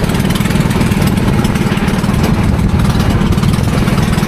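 A small wooden makeshift boat's engine drones steadily and loudly on the Amazon River, a constant mid-low rumble with a slightly uneven chugging texture and no talking.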